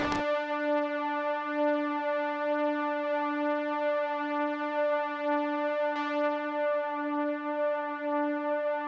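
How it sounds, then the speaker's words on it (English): A soft synth drone from the Serum 2 preset Analog Crispy Cotton holds one sustained, evenly humming note, struck again near the end and ringing on alone. "I literally just laid out this one note that repeats throughout the whole beat to create this kind of soft background drone"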